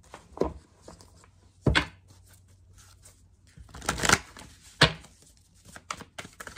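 Tarot cards are shuffled in a few separate bursts of crisp riffling and tapping, close and fairly quiet, with brief pauses in between.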